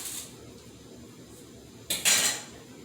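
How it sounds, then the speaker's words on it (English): A knife chops a quarter stick of butter on a board in a home kitchen, a couple of sharp metallic clinks near the end after a quiet stretch. "Chop up my butter."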